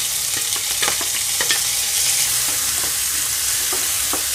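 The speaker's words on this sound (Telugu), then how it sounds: "ఇందులోకి నేను పచ్చిమిరపకాయలు ఉల్లిపాయలు వేసుకుంటున్నాను" Green chillies and onions added to oil with fried tempering seeds for a beetroot kurma, sizzling and crackling loudly and steadily close up, with occasional scrapes of stirring.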